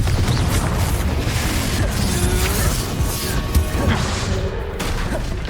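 A Confringo fire spell blasting in the Hogwarts Legacy video game during a duel, a loud dense roaring burst of crashing, rumbling noise that rolls on throughout with scattered crackles.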